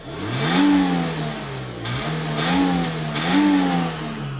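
A Volkswagen Golf 8 GTI Clubsport with a Stage 2 tune revs hard three times, each rise climbing to a loud growling peak then dropping back, close by with no talking.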